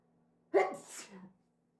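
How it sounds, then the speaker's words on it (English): A single sharp sneeze bursts out of near silence, close and loud, then trails off in a brief breathy tail. "I'm going to sneeze."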